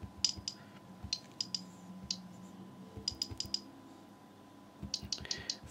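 Fingers tap on the on-screen keyboard of a Sony Tablet S, giving quick, sharp, faint clicks in irregular bursts against a quiet room background.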